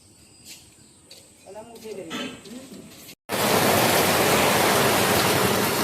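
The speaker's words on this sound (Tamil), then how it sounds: "பாருங்க எந்த அளவுக்கு மழை பெய்யுதுன்னு" Heavy rain falls as a dense, loud, continuous hiss in the second half, after a quieter stretch where someone speaks.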